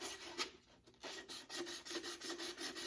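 Sandpaper scuffs a smooth, shiny plastic bottle in a rapid series of close, raspy back-and-forth rubbing strokes, with a short pause near the start and no voices.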